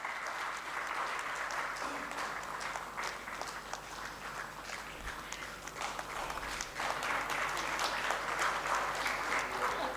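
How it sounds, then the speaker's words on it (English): An audience at an industry-academia conclave valedictory session claps in a sustained round of applause, dense and even throughout, swelling louder toward the end. "Let's have a huge round of applause."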